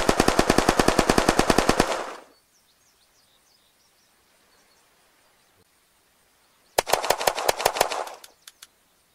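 Rapid pistol gunfire from the Cobra and Colt in the video game Unturned: a dense burst of shots for about two seconds, then silence, then a second burst of sharp, loud reports trailing off into a few spaced final shots.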